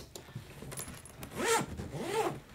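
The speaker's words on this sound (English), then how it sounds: "The zippers are heavy-duty self-healing zippers." A heavy-duty self-healing zipper on a TUMI Robinson suitcase gets pulled in two quick, rasping strokes after a few light clicks of the pull tab, close and clear with no talk.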